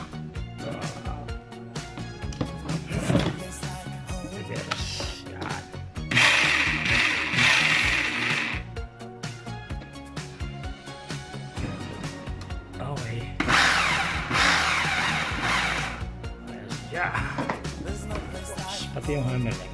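Rotary hammer drill running after carbon brush replacement, with two longer loud bursts of motor whine and hammering clatter between stretches of rattling mechanical handling, close by, and a voice talking in places.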